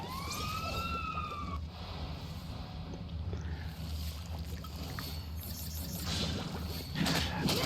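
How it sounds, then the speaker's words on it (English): A wailing ambulance siren from the Final Fantasy XIII video game sweeps up and down early on, then gives way to a loud, dense rumble of game sound that swells toward the end. "does anyone like how that ambulance sounds?"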